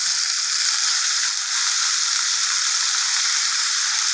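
Pumpkin pieces fry in hot oil with tomato and chilli, giving a loud, steady, bright sizzle that holds without a break and has no voices over it.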